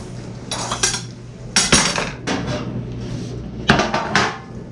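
Potatoes set down onto a metal baking tray, a few clustered bursts of clinks and clatters with short pauses between, close and fairly loud, no talking.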